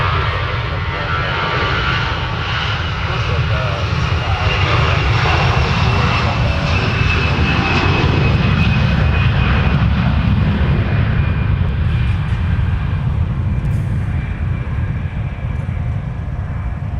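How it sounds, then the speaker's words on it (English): An Airbus A320 jet with CFM56 engines departs Minneapolis–Saint Paul airport, its loud, steady engine roar filling the whole span with a sustained whine and rumble. "That's an Airbus. CFM 56. Unmistakable sound."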